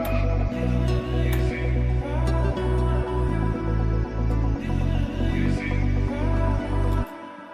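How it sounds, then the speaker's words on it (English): A Kepler bass guitar line drives a three-step Afro House groove, with deep, punchy bass notes pulsing in a steady rhythm over a melodic layer. It plays loud and continuous, then drops away abruptly near the end. "We just add a bass line, bass guitar from Kepler."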